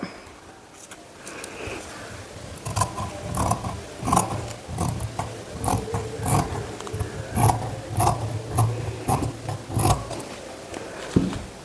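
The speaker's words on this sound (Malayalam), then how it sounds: "ഈ ഒരു വരയക്കട നമുക്കൊന്ന് വെട്ടിയെടുക്കാം" Scissors cut out a paper pattern piece for a neck design, a series of close, crisp snipping crunches in an irregular rhythm.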